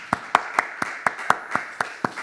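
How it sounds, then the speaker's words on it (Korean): A church congregation claps to welcome a pastor during a Sunday service: an even, steady beat of about four claps per second, bright and close, with no talking. "박수로 환영합시다."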